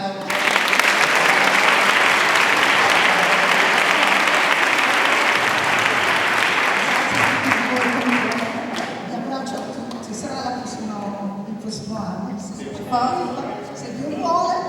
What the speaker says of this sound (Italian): Fatemi un bel applauso.